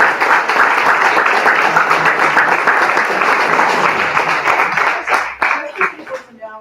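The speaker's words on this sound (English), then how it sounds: "Let's have a big round of applause." People at a League of Women Voters listening session applaud loudly and steadily, the clapping thinning into scattered claps and a voice as it dies down.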